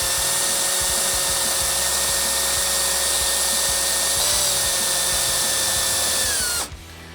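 A power drill bores a pilot hole into a helmet shell, a loud continuous whine with a steady pitch that dips slightly partway through and then cuts off abruptly at the end.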